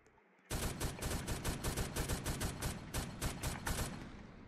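Gunshots in Roblox Brookhaven, a loud burst of about eighteen evenly spaced sharp reports fired in quick succession after a brief quiet lead-in, with no talking.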